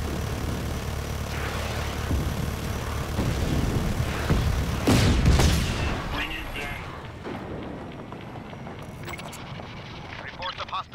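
Explosions and gunfire in the video game Just Cause boom loudly over constant engine and vehicle noise, with a big blast swelling midway and sharper cracks trailing off toward the end.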